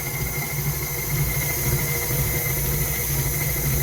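A loud, continuous hiss of steam from boiling maple syrup rises over a low rumbling hum. It stays steady throughout, with no voices.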